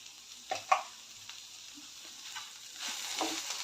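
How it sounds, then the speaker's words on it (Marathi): Okra fries in a pan with a soft, steady sizzle. A couple of faint scraping stirs come through near the start and again toward the end, all fairly quiet and close. "अजून एक दोन मिनटं फ्राय करून घेऊया भेंडी चांगले फ्राय झालेले आहेत"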